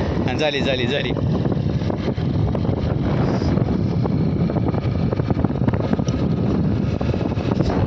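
Loud, buffeting wind roars into the microphone throughout while riding a scooter, rumbling and gusty as if riding fast, with an engine-like drone underneath.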